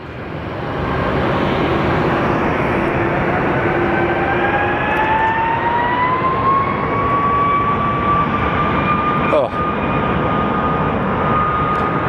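A jet airliner at Phoenix Sky Harbor Airport, getting ready for departure, gives a loud, steady engine roar with whining tones that climb in pitch as it spools up.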